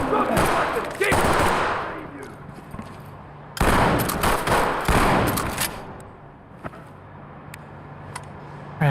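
Rapid gunfire in a tactical police video game, loud bursts of shots near the start and middle, separated by quieter stretches with occasional single cracks.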